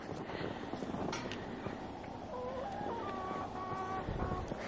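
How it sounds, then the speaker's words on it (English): Farmyard chickens waiting for scratch feed cluck in soft, scattered calls within a noisy outdoor setting, with a few longer drawn-out notes standing out midway. "Chickens, you waiting for Hamish to spread you some scratch?"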